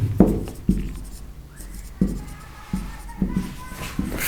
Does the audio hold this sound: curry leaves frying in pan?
no